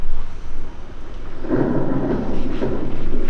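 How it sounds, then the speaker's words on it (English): Thunder rumbles low and heavy with steady pouring rain beneath it, swelling louder midway through as a rolling peak builds and holds to the end. "It's been pouring, thundering."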